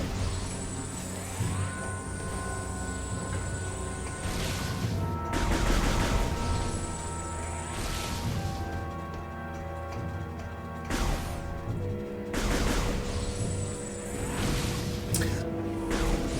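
Turret blasts in Metroid Prime 3: Corruption, a series of sharp, loud shots and crashing impacts with whooshes, coming in clustered bursts over game music, with brief talk.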